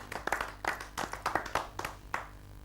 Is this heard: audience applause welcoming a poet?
yes